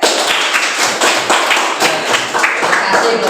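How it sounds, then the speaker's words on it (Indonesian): A classroom group claps for the third presenting group during a teacher performance assessment, a dense run of hand claps and taps filling the short stretch, mixed with some voices. "beri tepuk tangan untuk kelompok 3"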